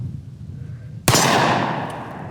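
A single loud shot from a Cyclops Thumper .50 AE pocket pistol cracks close by after a quiet moment. Its booming report rings out and decays slowly.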